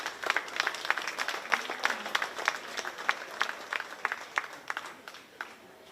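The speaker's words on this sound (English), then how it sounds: "Let's give a round of applause to all these exhibitors." An audience at a 4-H beef show at the Shelby County Fair gives scattered applause: a steady run of separate, moderately distant claps lasting several seconds.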